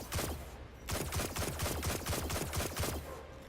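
Rapid bursts of sidearm gunfire in Destiny PvP, loud and close, roughly a dozen sharp shots in two quick strings separated by a short pause.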